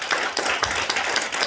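An audience at a Korean health lecture claps along, a short burst of close, steady, fairly loud handclaps that is dense and continuous with no talking.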